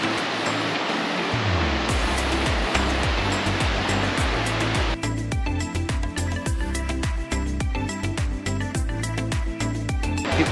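Rushing water pours steadily at a watering hole in El Yunque jungle, Puerto Rico, a dense broad roar like a small waterfall or stream, with a rhythmic thumping beat running underneath throughout.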